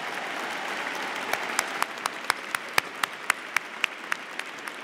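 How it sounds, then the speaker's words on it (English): An audience applauds psychology honors graduates at a university commencement, with steady dense clapping from a large crowd throughout and a few louder individual claps standing out, no talking. "Please join us in a round of applause."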